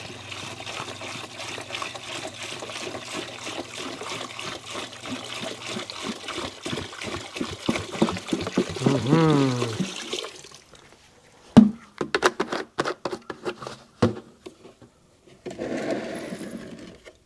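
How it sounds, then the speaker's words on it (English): A small pump chatters rapidly as antifreeze is poured and pumped into a bucket while winterizing a 2001 RXDI, a close mechanical buzz that stops, followed by irregular splashing and trickling liquid. "And I'm going to put some more antifreeze in there."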